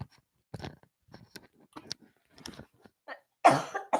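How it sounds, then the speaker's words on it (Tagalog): A sharp, close cough bursts out after scattered small mouth and crunching noises in an otherwise quiet room. "Inubo na naman ako."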